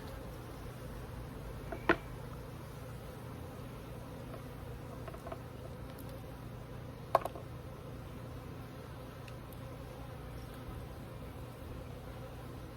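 Honey bees hum softly and steadily over a brood frame during queen installation, a faint continuous drone broken by two brief sharp clicks, with no talking.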